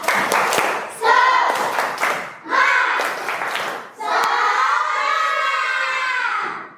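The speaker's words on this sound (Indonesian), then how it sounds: "Tepuk semangat." A primary-school class performs a chanted rhythmic clapping routine in an Indonesian lesson, children's voices chanting loudly in unison between short bursts of patterned claps.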